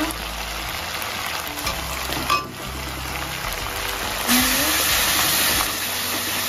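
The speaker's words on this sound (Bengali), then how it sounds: "মশলাটা ভালো করে কষিয়ে নেব, নাড়িয়ে নেব" Spice masala for a chicken roast frying in a pan while being stirred, a dense continuous sizzle with occasional scraping strokes and a brief clank, louder hissing in the second half.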